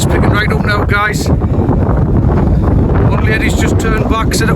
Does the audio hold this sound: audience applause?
no